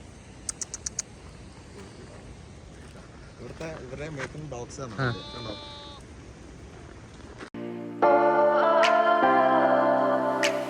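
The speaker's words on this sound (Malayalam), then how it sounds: "ചെമ്മരിയാടിന്റെ കൂട്ടത്തിനൊക്കെ നമുക്ക് കാണാൻ സാധിക്കുന്നുണ്ട്." A flock of sheep bleat in wavering calls amid outdoor murmur on the way from Kasol to Malana village, after a few sharp clicks; music then swells in loudly near the end.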